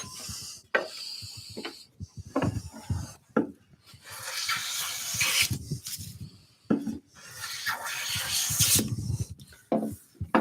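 A hand plane taking shavings off a board while building a wooden bird box, with several close rasping strokes separated by short pauses and clunks.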